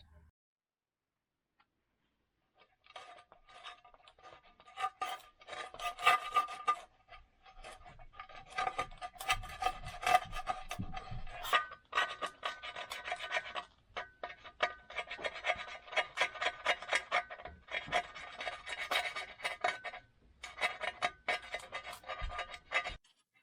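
A rag works grease and wax remover over the gear-oil residue on a 1969 Hemi Roadrunner's Dana 60 axle housing, giving close, brisk rubbing and scrubbing bursts in uneven runs after a quiet start.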